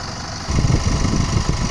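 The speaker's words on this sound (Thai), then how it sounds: "เสียงฟรีปั๊มเครื่องยนต์แรงนะครับตัวนี้" A Chevrolet Trailblazer 2.8 engine's fan clutch kicks in after a brief pause and spins with a loud, steady whooshing roar over the running engine's rumble, close up.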